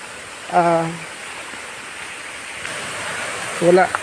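Broad steady rush of water at Funan Falls in Leyte, a constant roar filling the background throughout, with a person's voice briefly rising over it at the start and again near the end.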